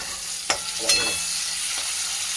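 Onions for a chicken curry fry in a pan with a constant close sizzle, punctuated by two quick stirring scrapes early on; no voices.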